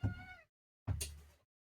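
A house cat gives two loud, close meows with a short silence between them, the second one harsher and more upset.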